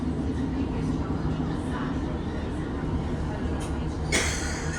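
A train pulls away from St. Columb Road request stop in Cornwall, a steady low rumble heard from on board, with a brief brighter hiss near the end. A voice speaks over it.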